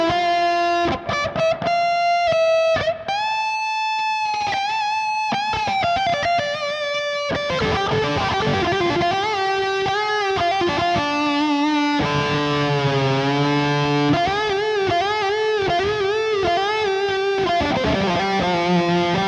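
Electric guitar lead played through a Matribox II Pro multi-effects unit with reverb added after the cab, sustained distorted melodic notes and bends ringing out continuously and loud with no talking.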